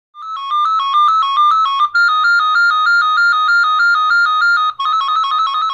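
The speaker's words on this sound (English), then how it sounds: "the Amplidect 350 will ring loudly with one of the many ringtones available" An Amplidect 350 amplified telephone rings loudly with an electronic melodic ringtone, bright repeating tones in short bursts, alone and close with brief pauses between phrases.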